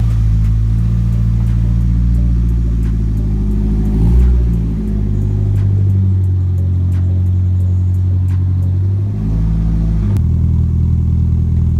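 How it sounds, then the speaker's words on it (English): Nissan S13 240SX on a cold start: the engine fires and settles into a loud, high, steady fast idle heard up close, with a couple of small shifts in pitch along the way. "That cold start boy"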